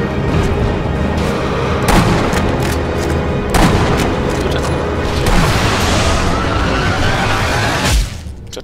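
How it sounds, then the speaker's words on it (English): Sniper rifle shots in the video game Sniper Elite V2, several loud booming reports spread across the clip over a constant game background rumble, with no talking. "So it took 3 shots to hit him"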